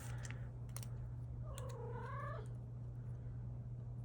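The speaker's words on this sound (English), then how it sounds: "Needy cat, right there, let me tell you." Ashby, a needy pet cat, gives a short rising meow close by over a steady low hum, with faint purring and a few light taps in the background.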